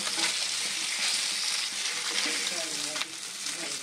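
Small sarpunti fish sizzle steadily in hot oil in a pan, with a continuous crackling hiss and occasional brief stirring sounds close by, no talking.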